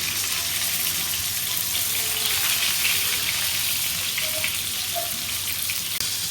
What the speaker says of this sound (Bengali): এখন আমি এক এক করে পটলগুলো উল্টাই দিব, দিয়ে ওই পিঠটাও ভেজে নিব।